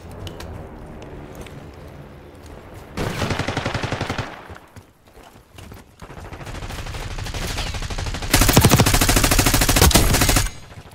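Black Ops 6 gunfire comes in two loud sustained automatic bursts, a rapid rattle of shots separated by quieter stretches, close and intense, with no talk over it.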